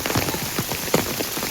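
Heavy monsoon rain pours steadily in Gungliya, a farming village, a dense close hiss of drops drumming on surfaces with no break and no voices.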